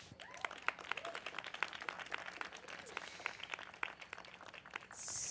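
Scattered clapping from an audience at a live evening storytelling event held in a cemetery, a steady patter of separate hand claps at moderate level with a faint voice heard briefly in the crowd.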